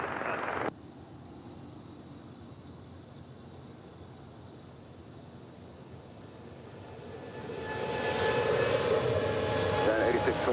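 FedEx heavy jet taxiing at LAX: a steady engine rumble and hiss that swells louder toward the end, with a sharp jump in level near the start and a voice faintly underneath.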